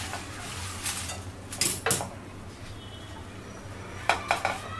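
Shev murmura chivda being tossed together with fried corn flakes, peanuts and coconut, a spoon scraping and clinking against a metal pan in a few scattered strokes, close and quiet with no talking.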